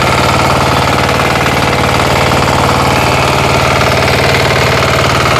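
A walk-behind tractor engine runs steadily at close range, a loud continuous knocking drone with dense rapid pulses and no pauses.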